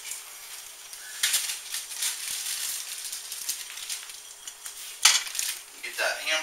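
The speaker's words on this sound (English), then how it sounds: "Get that hamburger, get it nice and browned up." Hamburger meat browns in a pan, a light sizzle with clinks of a utensil against the pan and a couple of louder scraping stirs, fairly close.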